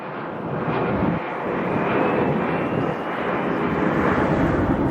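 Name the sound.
US Coast Guard HC-130J aircraft taking off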